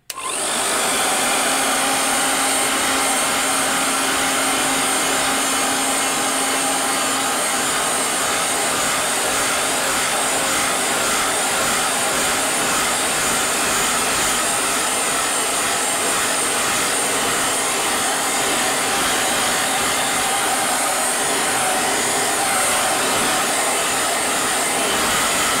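A hair dryer set to gentle heat and held well back from a watercolour painting roars steadily and loudly without a break, a continuous whooshing hum.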